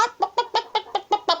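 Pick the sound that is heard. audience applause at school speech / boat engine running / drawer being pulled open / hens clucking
hens clucking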